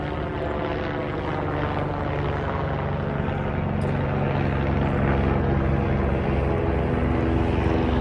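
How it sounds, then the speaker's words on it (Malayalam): A helicopter departing near Katra, Jammu and Kashmir, gives a loud, steady rotor and engine drone that holds evenly for the full eight seconds without a break; no one speaks. "ഇവിടുന്ന് ഓരോ സമയത്തും ഹെലികോപ്റ്ററുകൾ പോകുന്നതാണ്."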